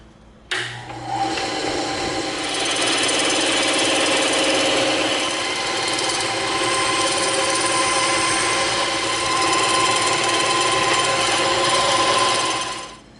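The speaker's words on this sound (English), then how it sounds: "we're going to rip this baby out on the bandsaw" A bandsaw rips through a block of EVA foam, its motor whining up sharply, then holding a loud, steady buzzing drone for about twelve seconds before cutting off, close by and with no talking.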